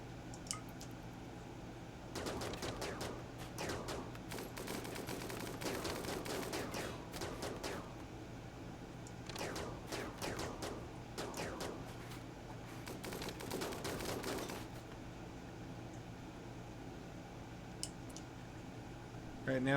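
Rapid gunfire from the colony-sim game Rimworld rattles in clustered bursts of quick, crisp shots, fairly faint and distant-sounding, with pauses between volleys and a steady low background hum.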